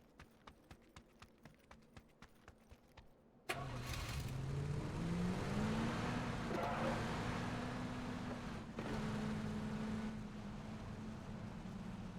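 A car drives in a first-person shooter game: quick rhythmic clip-clop steps, then an engine starts abruptly and runs as a loud, steady mid-pitched drone that rises in pitch as it accelerates.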